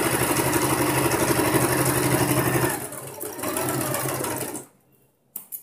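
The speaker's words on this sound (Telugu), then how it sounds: "పై కుట్టు వేస్తున్నానండి" An electric sewing machine runs a top seam on a boat neck blouse, a steady rapid whir with a fast stitching rhythm. It slows partway through, stops, and starts again in short bursts.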